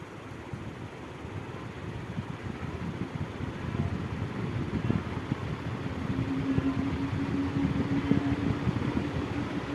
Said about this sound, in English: I'm going to put on a normal ceiling fan.